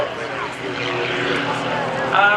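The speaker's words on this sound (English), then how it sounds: "400 horsepower in a highly modified pitch biplane. He pulls up onto the vertical." A 400-horsepower, highly modified Pitts biplane climbs vertically at an airshow, its propeller engine a sustained loud drone that brightens slightly near the end, with an announcer talking over it.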